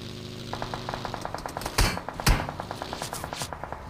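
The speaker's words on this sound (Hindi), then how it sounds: "जब मैं वहाँ पर जा ही रहा होता हूँ तो भाई फायरिंग की आवाज़ आती है" Gunfire rings out in the shooter game BGMI / PUBG as two loud, sharp shots cut through a quick ticking pulse and sustained in-game tones.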